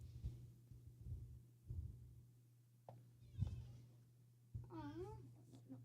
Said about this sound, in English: We got cats coming in here.